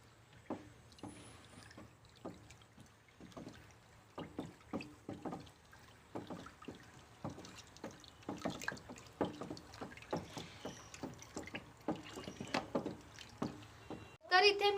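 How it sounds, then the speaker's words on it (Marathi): A wooden stick churns a mix of cow urine, dung and water for jeevamrit on an organic farm, making repeated wet sloshing strokes in a steady rhythm, with a louder splash at the end. "तर आपण हे गोमूत्र, शेण, पाणी सगळे हे मिश्रण आता आपण ढवळून घेणार आहोत लाकडाच्या काठीच्या सहाय्याने।"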